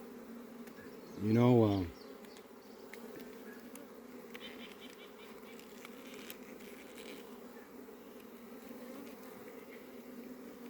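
Italian honey bees buzz loudly in a brief close pass early on, fading to a faint steady hum of the hive while a voice speaks briefly.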